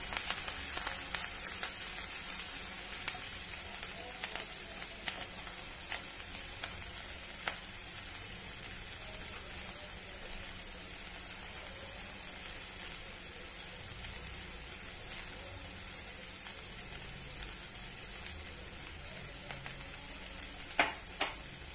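Small onions and green chillies frying in a pan for Kerala cabbage thoran, a steady close sizzle and crackle throughout with a few louder pops and scrapes, no talking.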